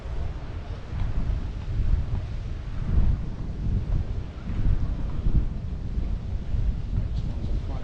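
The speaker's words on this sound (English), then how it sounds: "So some nice waves coming in now." Ocean waves roll in at Cala Ratjada beach on Mallorca, a low rumbling wash of surf heavily buffeted by wind noise on the microphone, steady with slight swells.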